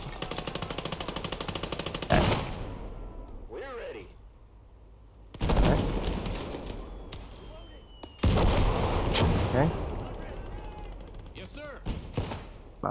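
Machine-gun bursts in the war game Call to Arms - Gates of Hell, three loud rattling volleys separated by quieter gaps, a voice talking during the lulls.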